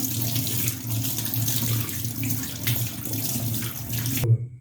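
Tap water runs steadily into a sink to rinse a gas stove burner after it was scrubbed with wire mesh, a close, continuous splashing flow that stops abruptly near the end.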